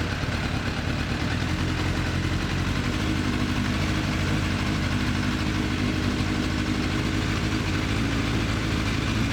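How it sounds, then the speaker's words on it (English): A Suzuki Bandit 600 motorcycle engine runs steadily at a raised idle during carburetor synchronization, a continuous even drone with no pauses, close by. "what we're going to do is increase the revs of the bike up a little bit"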